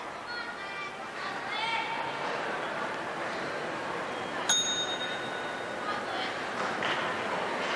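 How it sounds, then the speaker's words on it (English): A single short bell-like ding sounds at a gymnastics championship in 2003, a bright tone cutting through the steady noise of an arena crowd, with commentary voices and general chatter underneath. "We heard the bell. That's a warning."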